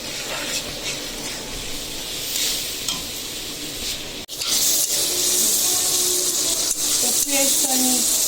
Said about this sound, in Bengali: এখন আমি এখানে পানি দিব